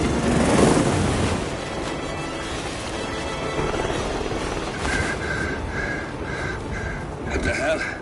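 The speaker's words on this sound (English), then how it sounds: "Alexa Carlisle's helicopter just took off." A helicopter lifts off in the video game Hitman 3, its steady whooshing rotor wash filling the scene with a faint tonal whine, while voices talk over it.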